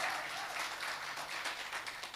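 Sustained audience applause at a music festival celebrating a singing group's third anniversary, a dense steady wash of many hands clapping without a break, moderately distant and fairly faint.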